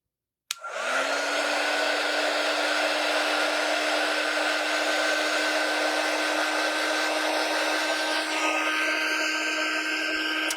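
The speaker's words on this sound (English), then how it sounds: "So I'm taking the dryer just so that it dried it quickly so I could see if that was the case." Hair dryer blowing steadily to dry an etched-leaf craft project, a loud continuous whirring roar that switches on abruptly and holds at one pitch, with no talking.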